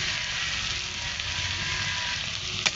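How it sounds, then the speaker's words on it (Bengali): Prawns frying in a pan with chopped onion and green chilli, giving a steady, even hiss of oil at close range with no voices, and a brief clatter of utensil against pan near the end. "পেঁয়াজ আর লঙ্কা হালকা করে ভাজা হয়ে গেলে এর মধ্যে দিয়ে দিচ্ছি চিংড়ি মাছ।"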